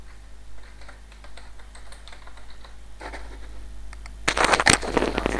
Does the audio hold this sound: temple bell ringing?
no